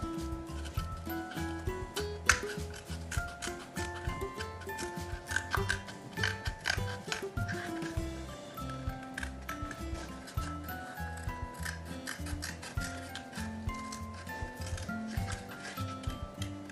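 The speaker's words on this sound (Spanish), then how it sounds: "y ahora voy a cortar por ahí" Scissors snip repeatedly through paper while making a phone stand craft, a dense run of quick crisp cuts and rustles, close and steady throughout with no talking.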